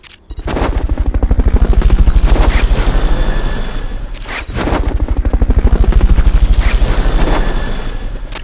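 Loud, rapid chopping rotor thump from a Fulton recovery helicopter in the game Metal Gear Solid: Peace Walker, two sustained bursts with a short break between them, close and dominant.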